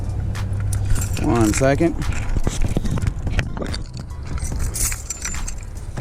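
Keys jangle close by while a 1995 Ford Bronco is being unlocked, a bright metallic rattle in bursts among handling clicks, with someone briefly speaking.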